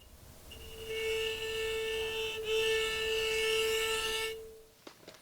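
A struck nail gives a single metallic ringing tone, about an A, that rises and sustains steadily for a few seconds with bright overtones, then cuts off, followed by faint clicks.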